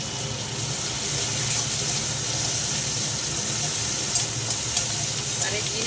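Ginger paste frying in a pan for a fish and potato curry, a steady loud hiss and sizzle that runs throughout, with faint stirring scrapes near the end, close and continuous.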